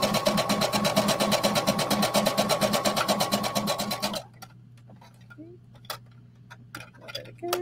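A sewing machine stitches around a tunic curve in a steady, rapid mechanical rhythm for about four seconds, then stops, leaving quiet room tone with a few small clicks and handling noises.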